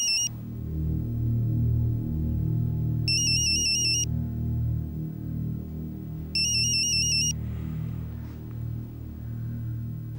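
A phone ringtone sounds in three short repeated bursts of bright, high electronic tones, loud and close, over a steady low background rumble.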